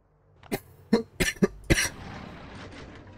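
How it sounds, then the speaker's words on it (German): A dry cough comes as a series of four or five sharp, close coughing bursts in quick succession, followed by a quieter rasping breath, with no talking. "es ist so ein trockener Husten, der tut so weh"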